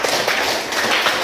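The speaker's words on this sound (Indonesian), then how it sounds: "kita berikan tepuk tangan" Classroom applause during a teaching performance session: dense, steady clapping from a group of people, close and fairly loud, filling the short moment with no voices.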